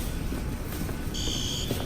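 An electronic alarm tone starts partway through, a steady high beeping over loud background rumble and noise, somewhat distant.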